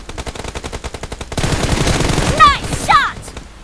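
Rapid bursts of gunfire in a team deathmatch video game, a steady rattling stream with a louder, denser stretch in the second half and a couple of sharp electronic zips near the end.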